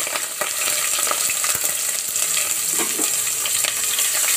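Chopped onions fry in hot oil in a pan, giving a loud, steady, close sizzle with occasional stirring scrapes.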